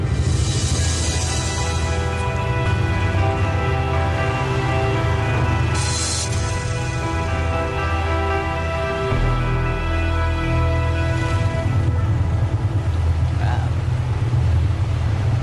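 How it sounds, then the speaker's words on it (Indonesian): A motor engine runs with a loud, steady low rumble that holds throughout and shifts in tone partway through, with wind buffeting the microphone. "Motornya nyala."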